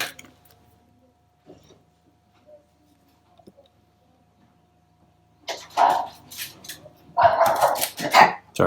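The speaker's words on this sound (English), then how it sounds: "Sorry for the barking." A dog barks several times from nearby, sharp loud bursts clustered late after a long near-silent stretch in a watch repair workspace, with faint small clicks of handling earlier.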